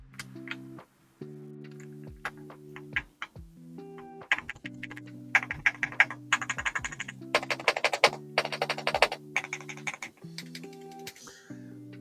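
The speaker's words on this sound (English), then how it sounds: "the default sound profile on this keyboard, I think, is nice. It is a little bit more on the clackier side" Royal Kludge R75 Pro 75% mechanical keyboard on its default clacky sound profile, typed on in bursts of rapid, close keystrokes with brief pauses, steady tonal hum in the background.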